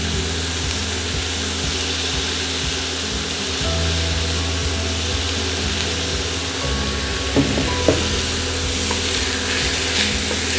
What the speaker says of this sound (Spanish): Y seguimos rehogando.